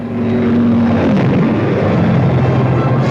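Propeller-driven fighter escort aircraft take off with a loud, steady engine drone, the pitch dropping slightly partway through as the planes pass.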